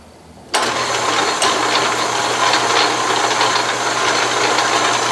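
An Atlas metal lathe motor switches on in reverse with a sudden onset, then runs with a steady loud hum and faint rattling.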